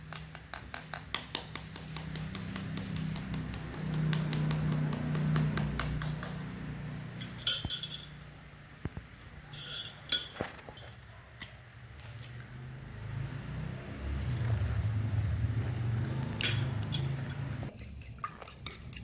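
A utensil ticks and clinks rhythmically against a bowl while stirring a potato cheese ball mixture of mashed potato, salt, flour and eggs, with repeated close taps over a low background hum and a few sharper clinks.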